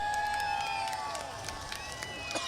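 At Virginia Motor Speedway during a modified and steel block race, a crowd cheers and makes noise while race engines whine around the track and someone talks.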